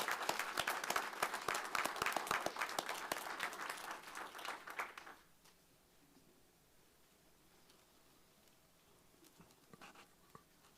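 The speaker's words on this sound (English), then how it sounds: "if we can just give them a round of applause" A school board meeting audience claps for a group of students, a dense burst of applause lasting about five seconds before fading into quiet room tone with faint rustling.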